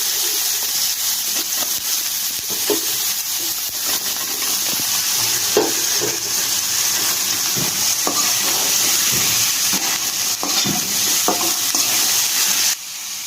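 Bean and onion bhaji with turmeric being stir-fried in a pan: a steady sizzle runs throughout, broken by repeated scraping clicks of the spatula, with no talking.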